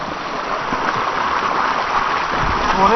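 Rushing water at Napittachora waterfall near Mirsarai, Sitakund, swollen after heavy rain, fills the air as a close, steady roar of churning water that never lets up.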